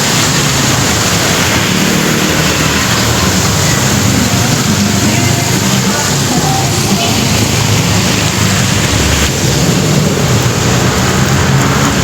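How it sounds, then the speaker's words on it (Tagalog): Heavy rain pouring down in a city street under the MRT elevated railway, a dense, loud and constant roar with deep rumbling underneath. "lumalakas na naman ang ulan."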